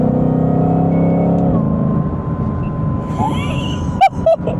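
Ford GT500 running on E85, its engine droning and revving with rising turbo spool whine, then the throttle lifts and two sharp bursts of whoosh or pops follow near the end, with faint background noise.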